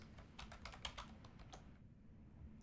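Someone types a password on a computer keyboard: a quick run of crisp, close keystrokes, then a short quiet stretch before one last tap.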